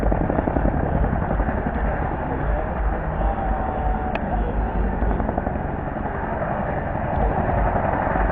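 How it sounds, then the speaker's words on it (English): A Chinook helicopter flying near an airfield at Fort Indiantown Gap during a living history event, its rotors producing a continuous, loud, throbbing drone that holds steady throughout. "Helicopter right near the airfield, so helicopters are coming in and out. There's a Chinook."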